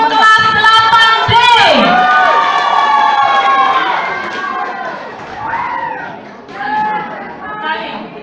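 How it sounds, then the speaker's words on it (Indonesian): Crowd at a school anniversary celebration cheering a class, with loud shouting children and excited voices that rise and fall across the clip, close and dense, with talking mixed through. "Sekali lagi kita beri tepuk tangan yang meriah untuk kelas 8D."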